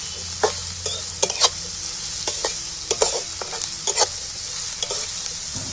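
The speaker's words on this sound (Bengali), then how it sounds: "পেঁয়াজগুলো আমি একটু তেলের মধ্যেই নাড়াচাড়া করে, একটু খুব বেশি লাল করে ভাজার প্রয়োজন নেই" Chopped onions are stirred and fried in hot oil in a pan for a chicken curry: a steady close sizzle under a series of sharp scraping stir strokes, with no talk.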